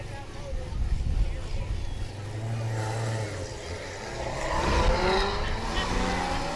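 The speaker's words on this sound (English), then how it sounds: "Sounds like it's got plenty of cam in the engine." A 2017 Chevy Corvette with a heavy cam passes at a racing event in Arnold, Nebraska, its engine note building from a low rumble to a louder rising roar, heard from a distance as a commentator talks.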